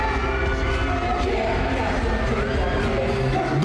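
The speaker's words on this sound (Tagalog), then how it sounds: "Dumagundong sa malakas na tugtugan at hiyawan ang buong Philippine Stadium na magsimula ang nasabing konsyerto." A packed concert crowd at the Philippine Sports Stadium roars with loud, continuous cheering and screaming over booming music throughout.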